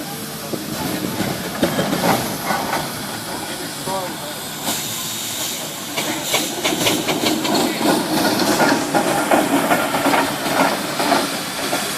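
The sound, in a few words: half-size McLaren steam traction engine at a parade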